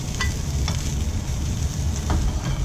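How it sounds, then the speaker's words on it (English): Steaks sizzle steadily on a hot sizzle plate, a loud continuous hiss and crackle with a few sharp scraping clicks from handling the meat, no talking. "put them back onto my resting sizzle plate"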